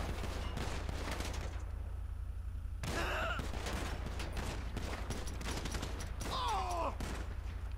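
Crackling volleys of gunfire in the video game GTA 5, repeated bursts and single shots layered over a constant low game hum, with mechanical clanks and whistling effects in between.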